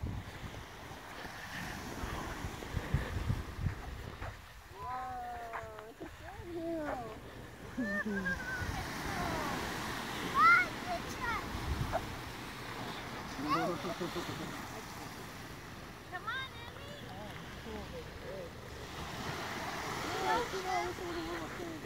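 Wind buffets the microphone on a Florida beach as waves break in a continuous wash nearby, with people talking throughout over the surf.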